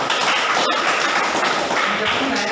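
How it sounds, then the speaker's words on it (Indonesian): Students in a classroom applauding, a dense patter of hand claps lasting the full moment, with voices mixed in among the clapping. "Nah, beri tepuk tangan bos kita."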